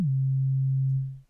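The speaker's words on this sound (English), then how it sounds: "So it's that pitch drop that you want." A single synthesised kick drum made in Serum, pitched up, starts with a quick downward sweep and settles into a steady low hum lasting about a second before it fades, heard alone.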